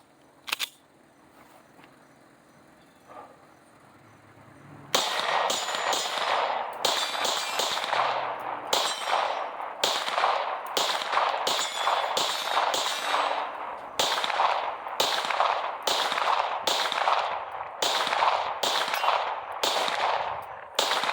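A PSA Dagger full-size pistol fires through a full magazine after a quiet pause, with about fifteen sharp, loud, close shots at a steady, brisk pace, each followed by a brief echoing ring.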